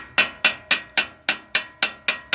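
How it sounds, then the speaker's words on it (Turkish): A hammer strikes the back of a screwdriver to loosen a bicycle bottom bracket, giving nine sharp, ringing metallic taps at a steady rhythm, close and loud, with no voices. "şöyle bir tornavidanın arkasından çekiç vurarak gevşetiriz"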